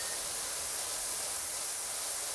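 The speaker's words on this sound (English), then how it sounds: "Spray all this gunk off." Continuous, even hiss of a pressure washer spraying in the video game Powerwash Simulator 2, a steady close-up jet with no pauses or voices.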